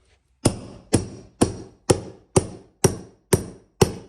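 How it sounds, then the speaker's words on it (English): Hammer blows on a carpet tucker, pressing a stair runner into the groove at the quarter round: eight sharp, evenly spaced strikes about half a second apart, close and crisp, each with a short ringing decay and no talk. "Hammer."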